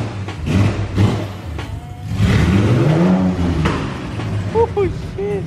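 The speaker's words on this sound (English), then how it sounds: "Matt just started his E30" A BMW E30 with an S54 swap, the E46 M3 engine, idles and revs, a steady mid-pitched engine drone with rising rev sweeps, heard up close while people talk over it.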